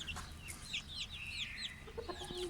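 Brahma chickens clucking and making short rising calls, several overlapping bursts close by over a low background hum.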